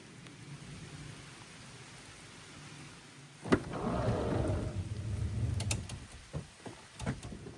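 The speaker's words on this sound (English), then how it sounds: "it's lightly raining outside" Soft rain patters outside a parked camper van, then a loud thump and rumbling rise midway, with scattered sharp drips and taps following.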